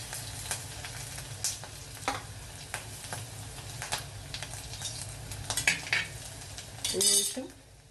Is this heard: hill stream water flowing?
no